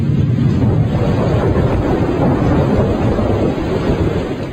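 Heavy rain pours in a thunderstorm with a continuous low rumble of thunder and wind, loud and close throughout with no let-up.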